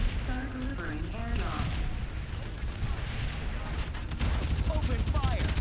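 Gunfire in the battle royale game Farlight84, rapid shots and booms mixed under overlapping voices, with the firing growing louder and denser toward the end.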